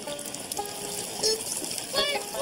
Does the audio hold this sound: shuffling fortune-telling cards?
no